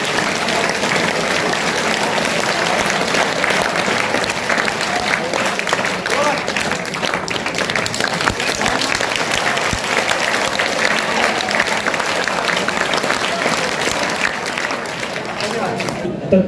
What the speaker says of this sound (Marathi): जोरात आपण टाळ्या वाजवूया.